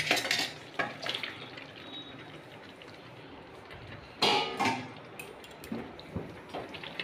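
Desi chicken dropped into a pan of hand-ground spices and stirred, with bursts of sizzling, metal utensil clinks and scraping against the pan, some louder strokes between quieter stretches.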